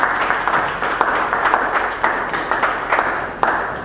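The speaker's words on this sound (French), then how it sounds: "Applaudissez pour eux." Audience applause at a seminar on earning a living online, a steady crowd of many hands clapping with scattered louder claps standing out, moderately loud and continuous without speech.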